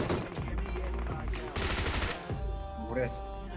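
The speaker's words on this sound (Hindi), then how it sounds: "लिटरली भाई 9 बुलेट्स में मैंने इसे मारा है।" Rapid gunfire in the mobile battle royale game BGMI, dense bursts of shots over a few seconds with someone talking over them.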